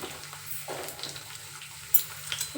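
Cumin seeds fry in a pan, giving a soft, steady sizzle with light stirring scrapes and a couple of sharper clinks against the pan, all fairly quiet.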